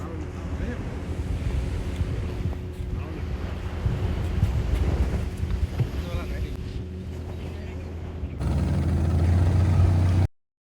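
Ocean surf rolls and crashes along a pilgrimage coastline, with gusting wind buffeting the microphone loudly and a voice talking briefly over the steady roar.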